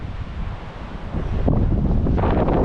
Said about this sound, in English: As you can see, it's getting pretty windy.